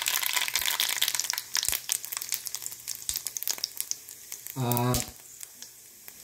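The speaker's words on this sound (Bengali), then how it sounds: "এখানে তেলের মধ্যে আমি একটু করে 5 ফোড়ন ছেড়ে দিলাম," Dried red chilies and five-spice seeds frying in hot oil, a close sizzle with crackling pops, swelling into a brief louder hiss, with a voice speaking briefly.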